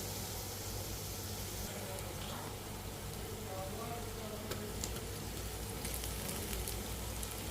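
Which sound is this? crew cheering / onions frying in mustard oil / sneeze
onions frying in mustard oil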